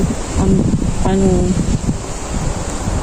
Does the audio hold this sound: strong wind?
yes